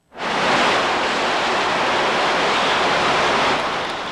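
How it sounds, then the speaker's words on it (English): Water from a water main break gushes into a New York street as a dense, loud, continuous rushing roar that starts abruptly and holds steady throughout. "This break sent water gushing into the streets and it flooded a tunnel."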